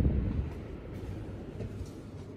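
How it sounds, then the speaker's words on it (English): A mini split air conditioner in a Sprinter van runs with its fan on high, a steady, soft, low rush of air filling the interior without any talk. "The fan's on high now. So it's really just a pretty quiet rush of air."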